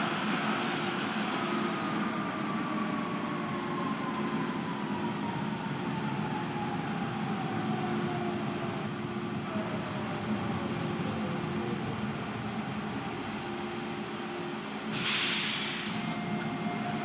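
A TTC Hawker Siddeley UTDC Can Car Rail H6 subway train in the OpenBVE simulator, rolling steadily with a sustained rumble and descending motor whine as it arrives at Coxwell Station, then a brief hiss near the end.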